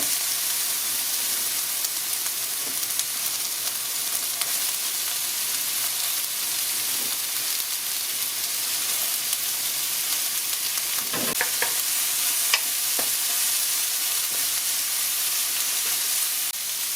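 Sea snails (golbaengi) and vegetables stir-frying in a pan for a diet recipe, a steady bright sizzle throughout with occasional stirring scrapes and clinks, close and alone with no voices.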